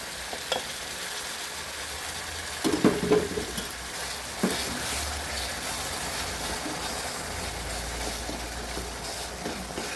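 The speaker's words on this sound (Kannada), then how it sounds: "ಇವಾಗ ರೆಡಿ ಆದಂತಹ ಈ ಗೋಧಿ ಕಡಬುಗಳನ್ನು ಈ ಒಂದು ರೆಡಿಯಾದಂತಹ ಮೆಂತೆ ಪಲ್ಯದಲ್ಲಿ ಹಾಕೋಣ" Wheat kadabu dumplings stirred into a pan of fenugreek palya, with a steady low sizzle and soft scraping of the spoon, a few louder clatters near the middle, no voices.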